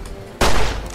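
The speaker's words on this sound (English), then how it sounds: "in my headset, it literally sounds like someone shooting at me" A scorpion attack in a video game windstorm lands as one sudden, loud, gunfire-like blast that rings on briefly after a quieter lead-in.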